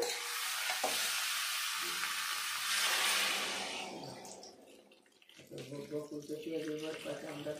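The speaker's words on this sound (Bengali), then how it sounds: "এবার দিয়ে দেবো পরিমাণ মতো জল" Water pours into a pan of simmering cauliflower and rohu fish curry, a loud broad rushing splash for several seconds that fades, then the pot's sizzling bubble returns close by.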